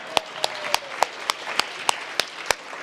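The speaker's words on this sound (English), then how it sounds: "when I'm applauding you, everyone joins" Single-person handclaps at a Los Angeles mayoral housing, transportation and jobs summit: about ten sharp, evenly spaced claps at a steady, unhurried rhythm, close and fairly loud over a soft room murmur.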